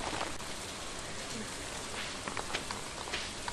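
Steady rainfall in the farming game Stardew Valley, a dense, even hiss of falling drops that continues unbroken throughout at a moderate level.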